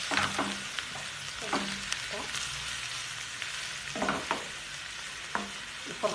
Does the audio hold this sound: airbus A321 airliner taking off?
no